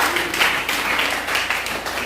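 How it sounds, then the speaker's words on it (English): Audience applause at a community drug-prevention symposium, a steady dense wash of many hands clapping together at moderate loudness, holding evenly for the full two seconds with no voices over it. "Give them a round of applause."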